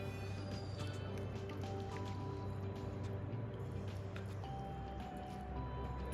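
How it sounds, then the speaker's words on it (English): A kitchen towel soaked in a bowl of warm water is wrung out in a home kitchen. Faint, close dripping and soft squishing run for several seconds in a quiet room. "Squeeze out the water and put the hot cloth all along the"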